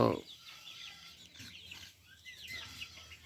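Native chickens clucking softly as they step out of their cages onto the ground, a scatter of short calls over a quiet outdoor background.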